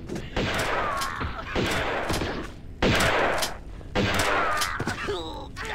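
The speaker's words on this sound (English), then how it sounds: "Point blank shotgun, nothing beats it" Shotgun fired point blank in Tomb Raider II, four loud, booming blasts spaced about a second apart, each with a rough, decaying tail.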